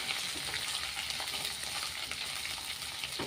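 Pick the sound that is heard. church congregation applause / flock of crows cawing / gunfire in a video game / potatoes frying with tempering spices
potatoes frying with tempering spices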